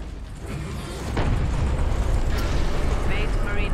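Big artillery shells exploding in the Space Marine video game on Xbox 360 (2011), a continuous loud rumbling roar of blasts and debris that swells partway through, with a voice faintly present underneath.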